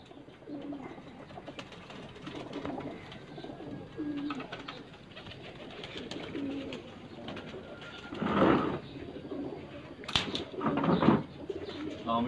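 Champion pigeons on a rooftop in Sheikhupura coo softly and repeatedly at close range, with a few brief flutters and louder bursts near the end over faint background noise.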